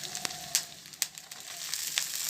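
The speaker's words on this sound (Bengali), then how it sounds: "আদা রসুনটা ভাজা হয়ে গেছে, এবার দিয়ে দিচ্ছি কেটে রাখা টমেটো।" Chopped tomatoes go into ginger-garlic paste frying in a pan, producing a soft, steady sizzle with a few sharp pops and clacks scattered through it, close but fairly quiet.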